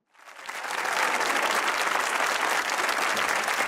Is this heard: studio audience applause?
yes